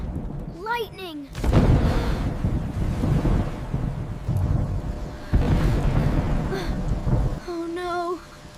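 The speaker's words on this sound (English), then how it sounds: "Oh no! Thunder is so loud!" Loud, rumbling thunder rolls on for several seconds, with broad low roaring bursts and a second swell, bracketed by brief higher vocal sounds.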